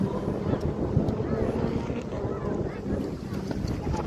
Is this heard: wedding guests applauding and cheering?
no